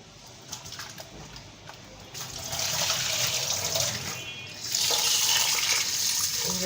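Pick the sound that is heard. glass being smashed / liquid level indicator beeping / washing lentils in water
washing lentils in water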